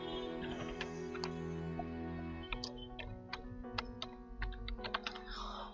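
Quiet keystrokes on a computer keyboard tap out email addresses in uneven bursts of clicks, faint beneath a steady electronic hum.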